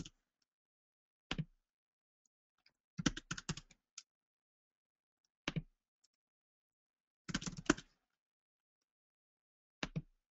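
Short bursts of quiet keystrokes on a computer keyboard come in irregular clusters separated by silent pauses, like a name being typed in, soft and close with no talking.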